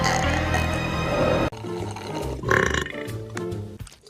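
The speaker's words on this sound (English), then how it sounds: "Mini fridge, big burps." A cartoon female character lets out a long, loud, throaty burp that stops abruptly, followed by rougher gurgling belches close up.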